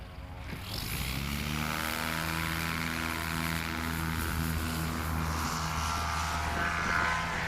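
A STOL propeller airplane lands on a runway during Heritage STOL practice, its steady engine drone holding loud and continuous throughout, with harmonic tones rising after a brief quieter start.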